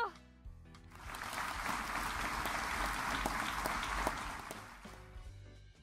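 Crowd applause in the Closers video game after a magic performance, swelling in after a brief synth tone and holding at a steady, dense level before tapering off near the end.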